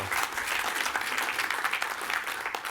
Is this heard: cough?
no